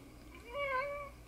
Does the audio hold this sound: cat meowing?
yes